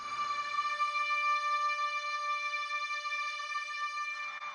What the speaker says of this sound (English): here's just a reverb